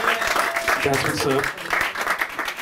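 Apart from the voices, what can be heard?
audience applause at a comedy show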